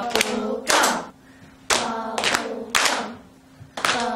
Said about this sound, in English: So a clap on each knee and then hands together.